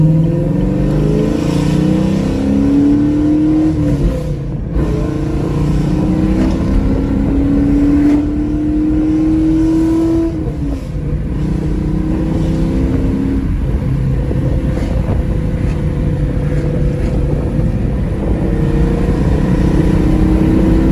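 A loud exhaust on an LT1 Camaro SS with 2-inch headers and an X-pipe roars close by, engine revving up in long rising pulls with brief dips between them, deep rumble throughout, no talking.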